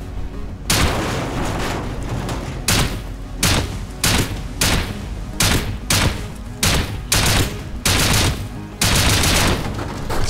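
A shotgun trap firing in Rust, heavy booming blasts coming in a rapid, irregular series of loud, close shots across the whole stretch.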